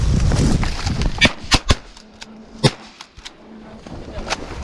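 Several sharp shotgun blasts ring out during a duck hunt over a flooded corn field, a quick cluster of close cracks followed by a few more scattered shots. Voices are heard at the start.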